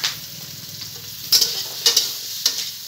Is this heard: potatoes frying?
yes